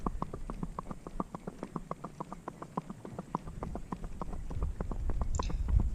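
Hoofbeats of a gaited horse ridden on a loose rein in a saddle rack, an even, quick four-beat clip-clop, steady and moderately close, with faint wind and movement noise building toward the end.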